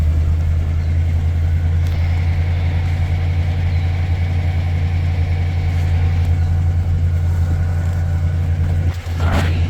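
A 1968 Oldsmobile Delmont 88 engine idles steadily up close, a loud, constant low rumble that runs throughout without any talking.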